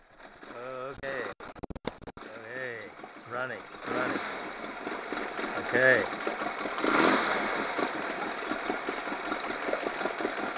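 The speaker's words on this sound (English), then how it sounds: "Idling better, but kind of slow" A Honda 8 hp four-stroke outboard with ethanol fuel trouble idles steadily after carburetor cleaning, a somewhat slow, uneven mid-pitched putter that builds after several seconds, with someone talking over the start.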